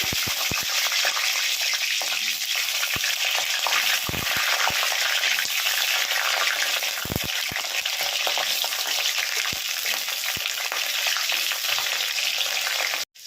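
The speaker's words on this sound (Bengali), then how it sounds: "বন্ধুরা দেখো, তেলটা গরম হয়ে গেছে। আমি এবার তেলের মধ্যে আলুগুলোকে ছেড়ে দিচ্ছি।" Potato pieces dropped into hot mustard oil, frying with a loud, continuous sizzle and crackle close up, with occasional clicks of a utensil against the pan.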